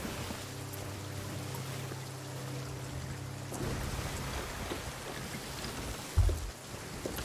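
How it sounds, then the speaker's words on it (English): Steady rain in the video game Sea of Thieves, heard below deck on a ship, hisses softly throughout, with a low hum in the first half and a brief thud near the end; no voices. "It's raining, but there is not a single drop below deck."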